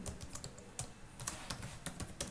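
Fast, irregular keystrokes on a computer keyboard, alone and close up, while entering a custom error message in Python code; the clicks come in quick clusters with brief pauses.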